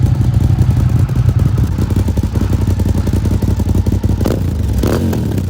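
An older Ducati motorcycle idles close by, its engine and exhaust making a loud, steady, rumbling thrum with a fast pulsing beat, and a couple of brief clanks late on.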